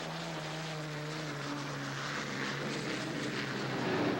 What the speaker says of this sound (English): Rumbling into the east turn, Steve Reynolds